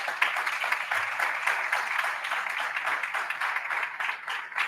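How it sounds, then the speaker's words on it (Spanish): An audience claps in welcome as a speaker is introduced at a talk, moderately quiet and sustained, a soft continuous patter of many hands with no talk on top. "Con un gran aplauso recibimos entonces al doctor Alberto Vargas"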